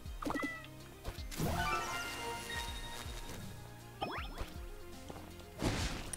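Cartoon cat meows in the video game The Adventure Pals, a few short game-voice cries scattered among busy music and sound effects, with a louder burst near the end; no talking.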